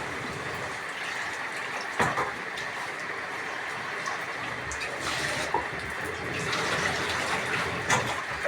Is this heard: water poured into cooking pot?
yes